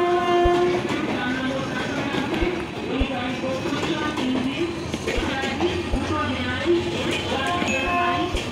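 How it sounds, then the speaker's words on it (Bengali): Balurghat Express train pulling into Bandel station, a continuous loud rumble of wheels and rail with horn tones, steady clatter and mechanical noise throughout, with some voices in the background. "এসে গেছে বালুরঘাট এক্সপ্রেস।"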